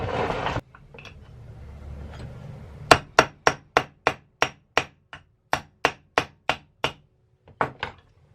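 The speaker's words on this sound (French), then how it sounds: "Je vais venir frapper ma petite goupille de laiton pour la bloquer." A hammer taps a small brass pin while building a fretted guitar, about fifteen sharp, evenly spaced metallic strikes close up, following a brief burst of noise and a quiet pause.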